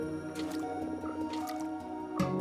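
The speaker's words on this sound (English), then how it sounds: "you can take a bucket of water and take these tadpoles to another place." A water bucket scoops up tadpoles in Minecraft, giving soft wet squishing and dripping sounds over an ongoing tonal music bed, with a louder slosh near the end.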